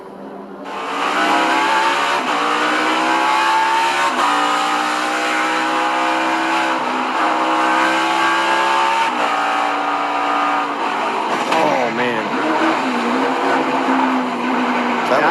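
NASCAR race cars at full speed, with Truex's car running into McDowell's in a crash: loud, continuous engine roar with rising and falling pitch and a tire-squeal wobble near the end.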